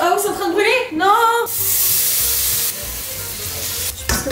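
Food sizzles and burns in a hot pan while a dish with melted gruyère cheese is cooked, a loud, steady hiss that begins right after a short burst of excited talk and carries on to the end.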